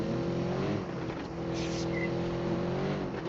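BYD car accelerating, a steady electric-motor whine rising in pitch over a continuous road rumble, heard from inside the cabin at a constant loud level.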